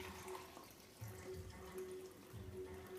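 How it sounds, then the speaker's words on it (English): Liquid pours steadily into a measuring cup for a homemade baby wipe solution, a continuous soft trickling that swells and eases in gentle surges, close and fairly quiet with no talking. "what I normally do is I pour it into a measuring cup"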